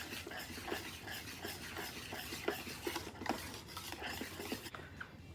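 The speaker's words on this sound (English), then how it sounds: "whisk all these together" A whisk stirs cheese sauce with grated Jack cheese in a pot, with quiet, steady scraping and rhythmic metal ticks against the pan, close and soft, no talking.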